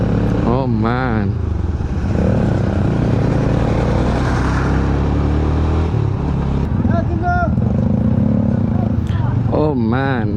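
A Yamaha R15 motorcycle engine drones and revs steadily while riding, loud and close with wind rush, as voices shout and call out over it.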